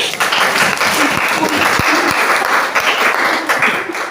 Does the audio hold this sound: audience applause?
yes